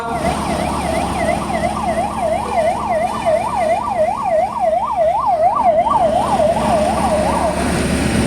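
A wailing ambulance siren rises and falls in a steady, rapid cycle, loud and continuous over a low rumble of road traffic, during a civil defence mock drill in Davangere.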